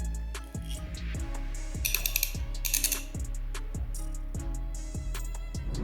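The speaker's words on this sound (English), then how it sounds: "Snap-on ratchet has 80 gear teeth. I like Snap-on teeth mechanism, it's smooth and silent." Snap-on 80-tooth ratchet turned by hand, its mechanism giving evenly spaced fine clicks in a steady rhythm, close and quiet.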